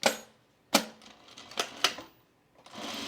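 A sewing machine stitches binding onto the wrong side of a zipper with a 1/4 inch seam while a tool case is being made; short bursts of mechanical stitching come in irregular spurts with pauses between, close and fairly quiet.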